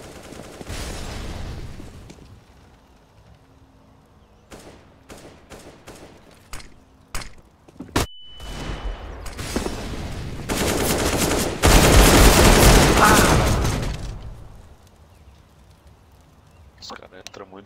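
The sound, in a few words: gunfire from players shooting in a video game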